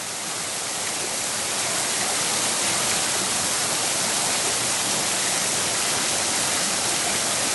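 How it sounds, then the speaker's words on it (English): A waterfall on the North York Moors roars in a steady, dense broadband rush of falling water, loud and close, holding constant with no break throughout. "There's plenty of people here just below the waterfall."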